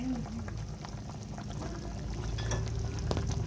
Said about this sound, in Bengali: এই মাটন ফুটছে